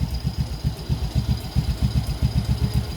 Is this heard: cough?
no